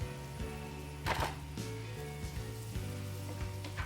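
Aromatics sautéing in sun-dried tomato oil in a pan, a soft steady sizzle with occasional stirring and scraping clicks, heard close and fairly quiet.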